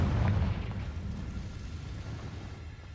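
A Confringo fire spell blast in the Hogwarts Legacy video game: a single loud, deep boom at the start that rolls off into a long fading rumble.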